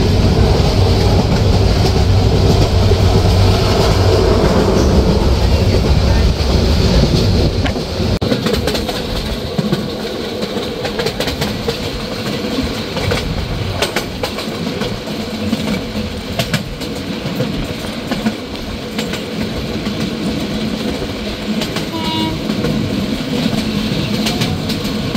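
Inside the Mohanagar Express running from Dhaka to Chittagong near Akhaura Junction, a loud, steady rumble of the moving carriage goes on, with rail clatter and scattered knocks and no talking.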